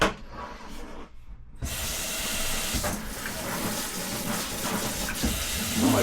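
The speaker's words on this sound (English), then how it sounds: "Put a little bit of water in this." Water runs steadily into a container of shrimping bait mix, a continuous splashing hiss after a brief pause, close and fairly loud with no talking.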